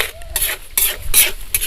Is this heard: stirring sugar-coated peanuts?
yes